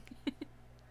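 A cat gives a few short, soft meows close by, three quick chirpy calls in the first half second over a faint background hum, then quiet.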